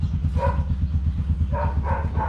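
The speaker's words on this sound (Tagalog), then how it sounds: "Kakakahul yung aso ng kapitbahay namin." A neighbour's dog gives a few short barks nearby: one, then two more a moment later. A steady low engine-like rumble runs underneath throughout.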